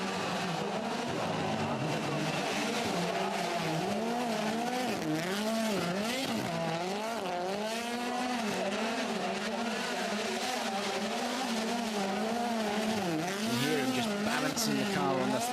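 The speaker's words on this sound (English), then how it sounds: "The car on the throttle." A WRC rally car on full throttle during a Rally Latvia stage, its engine note rising and falling through gear changes as it passes close and loud, with a crowd cheering faintly underneath.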